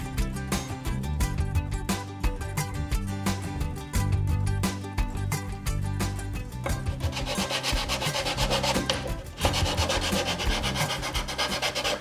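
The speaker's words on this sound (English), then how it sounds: "So I'm just going to sand until I get it flush." Sandpaper works by hand across figured wood at a guitar sound port, a steady scratchy rubbing of repeated back-and-forth strokes, close and loud, quickening slightly toward the end.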